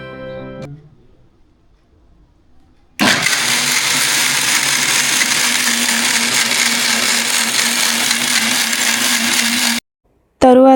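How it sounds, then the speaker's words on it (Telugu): A mixer grinder blends jaggery and ghee for a ragi cake, starting abruptly after a quiet lead-in and roaring loud and steady for about seven seconds before cutting off, then briefly restarting. "ఇప్పుడు దీన్ని మొత్తము ఒకసారి మిక్సీ పట్టేసుకుందాము."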